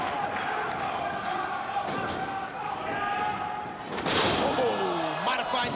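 A Michinoku Driver slam in a televised pro wrestling match lands as a heavy thud amid a noisy, cheering arena crowd, with a commentator's voice running underneath.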